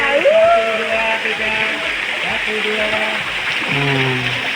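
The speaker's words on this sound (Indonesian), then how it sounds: "kita masih menjalani sungai nih" River water flows through Goa Pindul cave in a steady broadband rush that sits beneath close, continuous talking.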